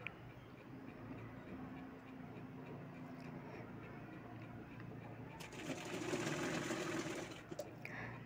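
A sewing machine stitches baby frock fabric as a low, steady whir in the background, a soft mechanical hum that grows slightly louder and busier near the end.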